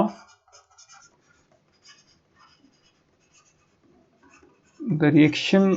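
A chemistry teacher writes a note on a board, with faint, intermittent scratchy strokes before a voice starts talking near the end.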